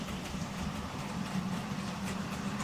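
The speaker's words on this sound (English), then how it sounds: "I'm presuming those trains are still working." Trains run continuously in a steady low rumble with a constant drone, unbroken and fairly loud throughout, with no voices.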